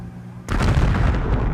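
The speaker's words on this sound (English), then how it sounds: "Then came the blast." A sudden loud explosion blast in Doha, recorded by a CCTV camera: a quiet street hum, then a heavy boom that bursts in and rumbles on, loud and broad, for over a second.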